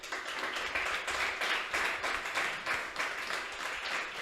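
An audience gives sustained applause for a guest being introduced, a dense steady wash of many hands clapping at moderate distance, with no talk over it.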